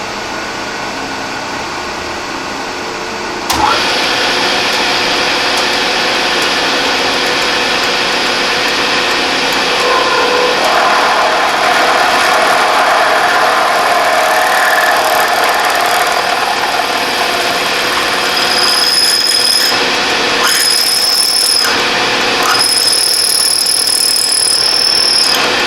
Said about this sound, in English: that drill point just met up with the cross hole, just as planned